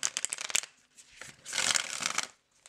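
A matte tarot-size card deck is riffle shuffled close up, with quick crisp flutters of cards riffling together, a brief pause, then a longer dense burst of shuffling before it settles.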